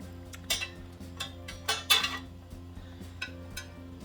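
Cutlery clinks and scrapes against dishes while hot sausage stuffed mushrooms are plated, a few sharp chinks and knocks standing out over a quiet kitchen background.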